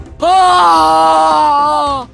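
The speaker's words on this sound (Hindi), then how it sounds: "बस एक ही आखिरी चीख निकली अजीत की" A man lets out a final, drawn-out scream in a Hindi horror story about a witch hunter. It is one loud, sustained cry lasting about two seconds, heard alone and ending abruptly.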